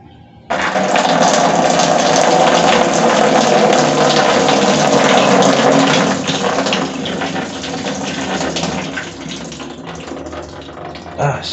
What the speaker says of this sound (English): just rinsing the trash can just a little bit.